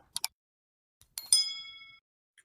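A short two-tone chime followed by a bright ringing ding that decays over about a second, clean and isolated against silence.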